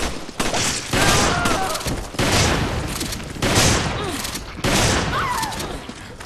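Resident Evil 5 gunfire in a versus match: repeated loud volleys of shots in several bursts with short gaps, close and dominant.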